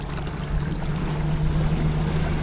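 An electric outboard motor on a dinghy is throttled up, giving a steady low hum under a constant wash of water rushing past the hull, moderately loud and continuous with no talking.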